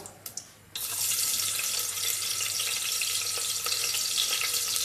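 Onions dropped into hot coconut oil for Malabar chicken biryani hiss into a loud, steady frying sizzle after a few brief taps, close and continuous.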